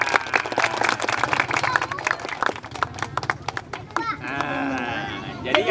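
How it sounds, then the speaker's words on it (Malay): Children clap and cheer after a storytelling session for landslide victims in Sumedang, a lively burst of scattered clapping with excited young voices and shouts mixed in, fading toward the end as chatter continues. "Boleh tepuk tangan yang meriah."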